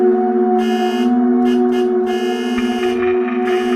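A loud, continuous truck horn blares without pause on a road, close and insistent, with some rattling noise layered over it.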